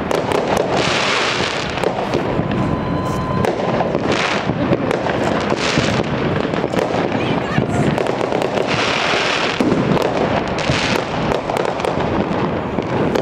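New Year fireworks over Gdańsk Stogi burst continuously in dense, overlapping bangs and crackles, some near and some distant, with people talking throughout.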